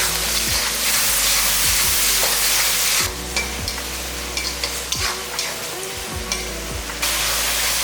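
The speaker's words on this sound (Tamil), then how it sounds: "தக்காளி வெங்காயம் எல்லாமே இந்த அளவுக்கு நல்லா வதங்கிடுச்சு" Chopped onion and tomato sautéing with salt in a pan for a tamarind curry with elephant yam, a dense close sizzle broken by repeated scraping stirs and clanks that thin out partway through.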